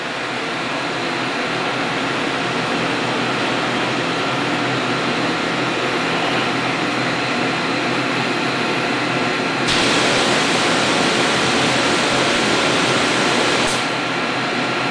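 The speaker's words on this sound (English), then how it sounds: "Moving the Z axis down." A DMG Deckel Maho DMU 50 Evolution CNC machining center, resting unlevelled on wood blocks, moves its Z axis slowly downward, giving a steady, quiet broadband whir with a brighter hiss switching on partway through and cutting off near the end.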